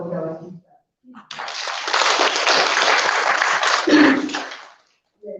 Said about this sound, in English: Please let us all applaud our teachers